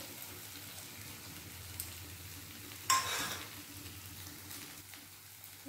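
Turmeric, cumin and coriander powders fry in an onion, ginger, garlic and tomato masala. The sizzle is faint and low, with a single sharper scrape or burst of hiss partway through.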